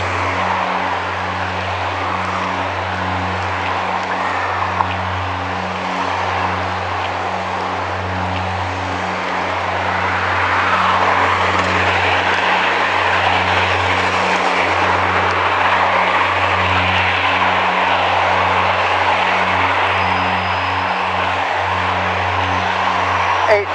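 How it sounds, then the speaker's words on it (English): Continuous crosstown street traffic on a peninsula in Victoria, heard from a bicycle: a steady rumble of passing cars mixed with wind noise, growing slightly louder partway through. "This is crosstown traffic."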